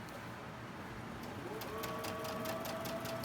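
A sewing machine stitches a pinned quilt block. A low hum gives way to a rapid, steady mechanical chatter that grows more distinct toward the end, close and moderately loud.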